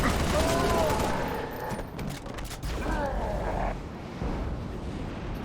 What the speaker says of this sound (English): Basically, I just wanted to use the assault rifle.